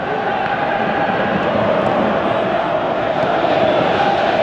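A large football stadium crowd in eFootball 2023 roars steadily throughout, a dense continuous wash of cheering and chanting without breaks.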